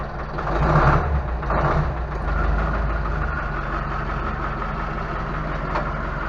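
An Ursus C-360 tractor engine idles steadily nearby with a deep, continuous low rumble and a few brief clanks early on.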